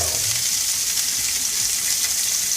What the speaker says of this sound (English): And then I'm going to sear that salmon. Skin side up, meat side down.